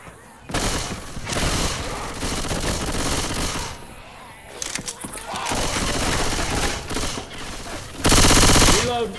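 Sustained machine gun fire in Left 4 Dead 2 during the Parish campaign, loud rapid bursts rattling on for several seconds with short pauses, ending in a harsh blast of shots.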